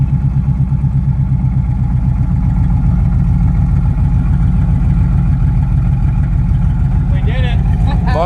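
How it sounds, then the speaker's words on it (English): A Chevy K1500 pickup truck engine idles steadily while warming up, with a deep, rapid, pulsing rumble, loud and close; a voice speaks briefly near the end. "Let it warm up for a little bit"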